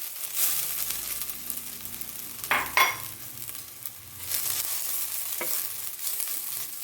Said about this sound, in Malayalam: നമ്മൾ പിഴിഞ്ഞ് വെച്ചിരിക്കുന്ന ഇഞ്ചി നമുക്ക് നല്ലപോലെ ഒന്ന് വറുത്തെടുക്കണമായിരുന്നു